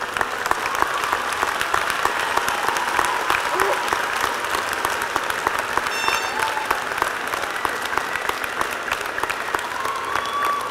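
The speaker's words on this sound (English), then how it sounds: "Let's give them a great round of applause." A graduation audience at the University of the Sciences' 2011 commencement claps in sustained, dense applause that stays steady throughout, with faint voices mixed in.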